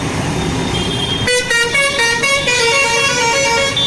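Vehicle horns honk repeatedly at a busy Kothavalasa road junction in Vizianagaram district, loud bus and car horns overlapping above a constant rumble of heavy traffic.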